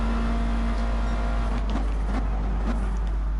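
Racing car engines in Gran Turismo 6 drone steadily down a straight, a constant loud hum with faint pitch shifts as the cars run close together.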